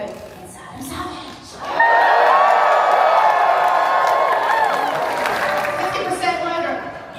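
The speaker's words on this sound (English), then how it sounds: "When you hear the name Adam Savage, can we practice a big cheer?" A large convention audience at MEGACON 2025 erupts into loud cheering, whooping and shouting for Adam Savage, rising sharply after a quieter start and staying sustained before easing slightly toward the end.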